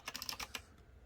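Rapid typing on a Matrix 65% mechanical keyboard in blue, a quick burst of several clacky keystrokes close up, then stopping into quiet.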